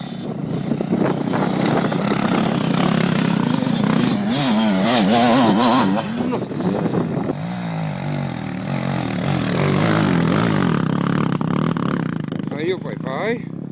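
Dirt bike engine revving hard and accelerating along a dirt trail, a loud buzzing drone that rises and wavers throughout, with people talking over it.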